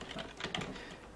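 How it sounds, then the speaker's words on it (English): Quick keystrokes on a computer keyboard as a command is entered to reboot a Google Nexus One phone into recovery, a dense run of close, soft clicks with no voices. "I just like typing the command."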